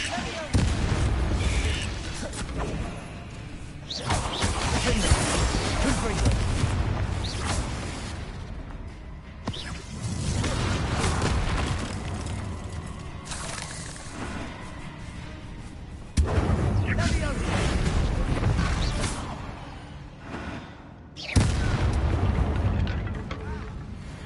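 Repeated Confringo blasting-spell explosions in a PS4 video game, heavy booming bursts in several loud waves with speech mixed in.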